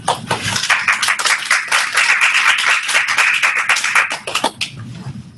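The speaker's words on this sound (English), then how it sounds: "Goodness, an applause so early" Audience applause breaks out at a Global Digital Library demonstration event, a dense burst of clapping from a room of people that stays steady for several seconds, then thins out and stops near the end.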